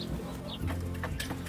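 Rhode Island Red and New Hampshire cross chickens, including naked-neck and barred birds in a pen, cluck and murmur close by in a short, busy mix of low calls.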